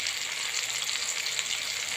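Ground spices sizzle in hot oil while a curry tempering is made for a cauliflower-and-tomato dish, a close, loud, even hiss that holds steady throughout with no talking.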